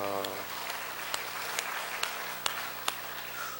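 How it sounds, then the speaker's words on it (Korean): A congregation claps during a Sunday church worship service, soft applause running under lingering organ or keyboard tones, with a few sharper claps standing out. "하나님께 영광의 박수 올려드립니다."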